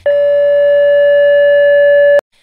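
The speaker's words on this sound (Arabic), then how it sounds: "إذا جبنا مكبر صوت وحطيناه قدامه ولعبنا نوطة أو نغمة إلى نفس التردد الطبيعي للكاسة يلي هو 575 هرتز" A steady 575 Hz pure tone from a loudspeaker set in front of a drinking glass, matched to the glass's natural resonant frequency. It sounds loud and unbroken for about two seconds, then cuts off sharply.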